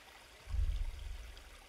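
Water flowing in the stealth video game Aragami, a soft low rush that swells up after a quiet start and runs steadily to the end, with no talking over it.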